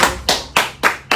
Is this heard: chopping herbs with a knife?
no